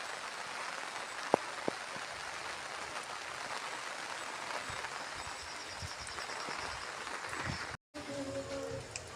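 Steady rain falling outdoors in a Tamil Nadu village, a constant soft hiss of drops with a few sharper taps and a brief cutout near the end.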